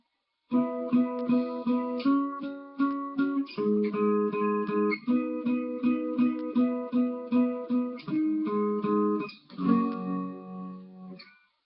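A guitar plays the chorus of a song slowly with open chords, ringing close and clear as steady strummed hits, shifting chord every second or two and briefly pausing near the end.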